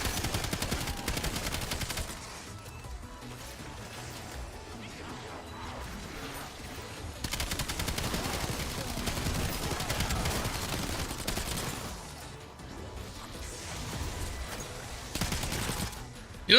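Rapid automatic gunfire from a gun in Black Ops 7, sustained bursts of shots broken by brief lulls, fairly loud in a busy game mix with occasional speech.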